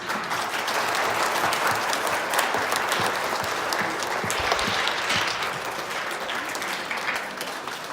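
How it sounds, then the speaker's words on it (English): Audience at a Catholic Schools Week teacher and staff recognition event applauds warmly, dense continuous clapping that swells and then slowly tapers over several seconds. "a round of applause, please"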